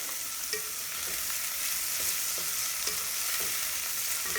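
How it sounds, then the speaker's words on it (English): Steady sizzling and crackling of onion frying in a pan, with a few soft clicks of stirring, and no voices. "you also cook your onion."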